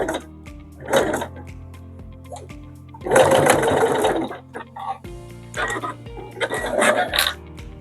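A sewing machine stitches piping onto fabric in three short runs of whirring needle action, the middle one longest, separated by quiet pauses with faint handling noise.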